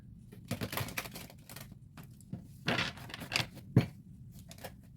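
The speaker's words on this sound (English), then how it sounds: "Final shuffle." Bursts of rapid papery riffling as a deck of tarot cards is shuffled several times, with short pauses between bursts and a sharp tap near the end.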